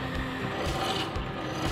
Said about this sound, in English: So we're going to use a rough farrier's rasp.